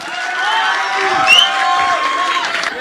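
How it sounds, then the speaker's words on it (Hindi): Crowd at a Sapna Choudhary stage show clapping and cheering, with whoops and shouted voices riding over a steady, lively roar that swells briefly midway. "एक बार तालियां तो बजा दो।"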